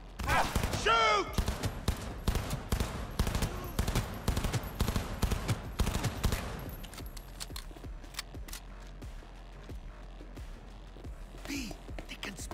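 Rapid bursts of automatic gunfire rattle close and loud during a shootout in Cyberpunk 2077, followed by sparser single shots and fainter distant fire as the exchange tapers off.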